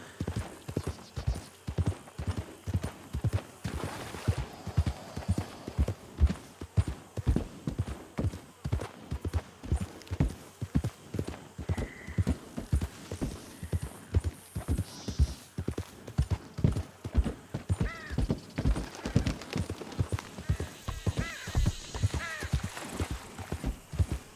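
Horse hooves in Red Dead Redemption 2 clip-clop in a steady, quick rhythm for the whole stretch, fairly close, with a faint whinny near the end.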